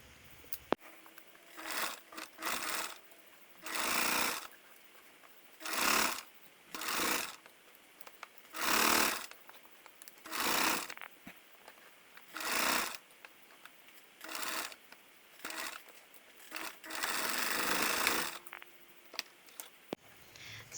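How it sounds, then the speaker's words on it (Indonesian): A sewing machine stitches a French khimar pad in repeated short bursts of fast mechanical whirring, each lasting about a second, separated by brief pauses and quieter handling noises, close and clear with no talking. "Kemudian jahit."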